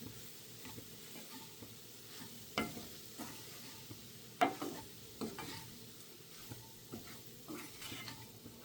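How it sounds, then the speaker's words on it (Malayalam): Cauliflower rice and sauce stirred in a pan over a low flame: soft, faint scraping strokes and an occasional utensil tap over a quiet background sizzle. "ലോ ഫ്ലെയിമിലാക്കിയിട്ടാണ് ഞാൻ ഇനി ഇനി ഇത് മിക്സ് ചെയ്യുന്നത്"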